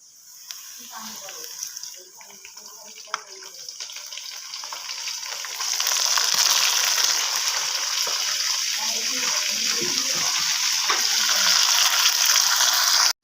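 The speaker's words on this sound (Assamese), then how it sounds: "এতিয়া ধুনীয়াকৈ গল্ডেন ব্ৰাউন হোৱালৈকে ভাজি ল'ম ধুনীয়াকৈ। মাংসখিনি ধুনীয়াকৈ দি দিওঁ এতিয়া।" Meat fries in a pan toward golden brown, giving a steady crackling sizzle that swells louder partway through and keeps going, close and continuous.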